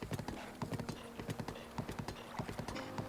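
Hooves of a horse clip-clop in a Zelda video game, a rapid, steady run of galloping beats at moderate volume with a low hum in the background.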